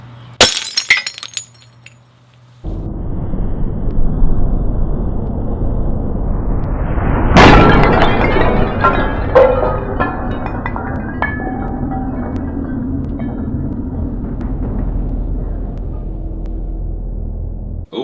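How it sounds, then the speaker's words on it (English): A ceramic pot made in a ceramics class shatters in one loud crash, followed by a long ringing scatter of clinking fragments and debris. "more smashing stuff on HighSpeedFanatics, a ceramic pot"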